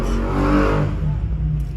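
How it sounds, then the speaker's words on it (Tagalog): Cars pass along a street in Makati, a loud nearby engine surging and revving past, then a steady motor rumble trailing off over the short stretch. "Nasa Makati kasi ako kaya may mga dumadaan na sasakyan"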